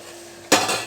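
A metal plate set down over a cooking pot of mutton soup curry gives one sharp, bright clatter, followed by a short ringing rattle as it settles.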